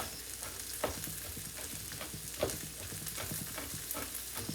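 Garlic and onions frying in a home kitchen pan, a steady soft sizzle with scattered pops and occasional scraping clicks, fairly quiet and alone.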